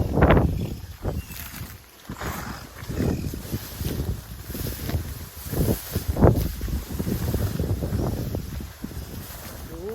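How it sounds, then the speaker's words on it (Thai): Strong outdoor wind buffets the microphone in gusty, rumbling bursts that rise and fall throughout, loud and close, with no clear voices. "ลมแรงมากๆเลย"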